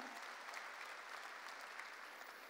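A church congregation claps together in a sustained, even burst of applause, faint and somewhat distant, with no voices above it.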